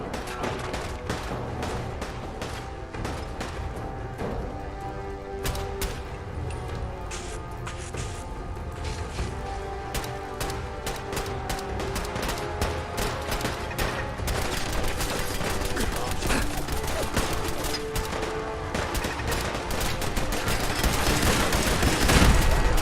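Automated turret gunfire in Fallout 4, a dense run of rapid, sharp bursts and mechanical clatter that grows louder and more intense toward the end, with no talking over it.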